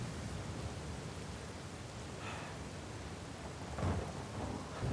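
A thunderstorm in the video game Uncharted 4: steady hissing rain and wind with low rumbles of thunder, one heavier roll toward the end, all fairly faint and without voices.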